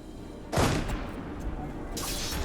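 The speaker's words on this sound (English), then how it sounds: "Oh, they were just cannons." Cannon fire in the video game Europa Universalis IV, a sudden loud blast followed by a crackling volley and a second burst near the end, over a steady background.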